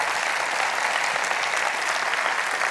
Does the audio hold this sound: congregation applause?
yes